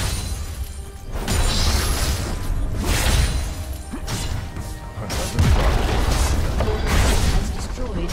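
A turret being destroyed in a League of Legends match: loud, dense crashing and booming game effects that surge in repeated bursts over a busy battle soundtrack, with an announcer-style voice in places.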